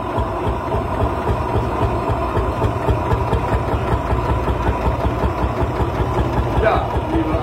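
A 1941 Lanz Bulldog tractor engine idling, a loud, steady, low thumping that runs without a break throughout.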